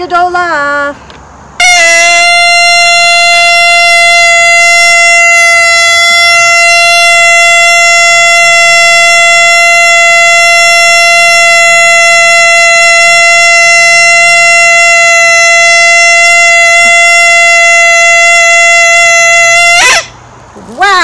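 Shofar blown at a religious school's Rosh Hashanah lesson: a few short rising notes, then a single long, steady, loud tekiah blast held for nearly twenty seconds before it falls away.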